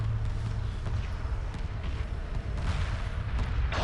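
Ion cannon frigates blasting away in a large Homeworld Remastered space battle, a dense, continuous roar of heavy energy fire and booming impacts that layer into one loud, unbroken barrage.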